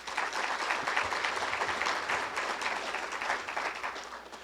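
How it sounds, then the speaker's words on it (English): Sustained applause from an audience, many hands clapping steadily at a moderate level with no voices over it. "give yourselves a round of applause"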